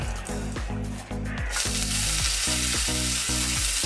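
Mustard seeds fry in coconut oil in a pan, a loud close crackle that swells into a steady sizzle, with repeated low rhythmic thuds running underneath.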